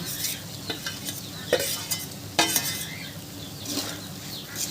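Pre-fried vegetables are tipped into a pan of well-cooked spice masala for a vegetable dal and stirred. Soft sizzling runs underneath, with scraping and clinking spatula strokes against the pan at irregular intervals, moderately close.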